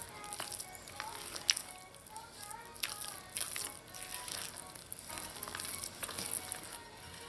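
Browning being stirred into thick black fruit cake batter, a Trinidadian Caribbean rum cake, giving soft wet squelching and scraping strokes in an uneven rhythm, fairly quiet and close.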